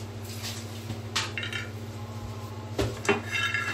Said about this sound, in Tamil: அடுத்தது பாதாம் பயிறு வறுத்துடலாம். ரொம்ப வறுத்துடக்கூடாது.